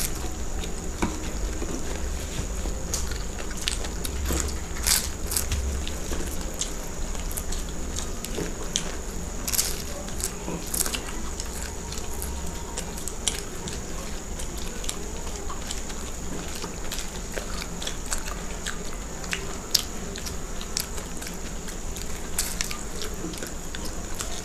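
Biting and chewing of egg snacks such as boiled egg panipuri, egg rolls and egg pakora during an eating challenge, with steady crunchy, wet mouth noises and occasional sharp clicks over a constant low background hum.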